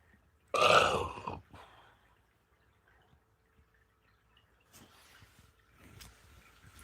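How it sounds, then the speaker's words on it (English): A loud, close burp from carbonation gas rises abruptly and lasts about a second. Quiet rustling and small movement noises follow. "CO2 burps."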